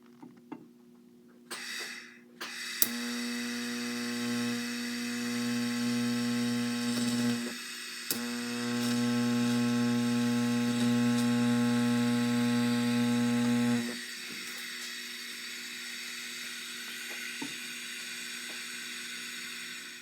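TIG-style welding with filler rod on lower 4-link suspension arms gives a steady electrical buzz and hum. It runs in two sustained stretches separated by a short pause, close and moderately loud, with no talking.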